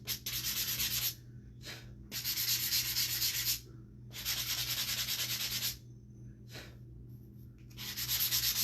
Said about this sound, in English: Now I'm going to use this. This is an 80 grit sandpaper.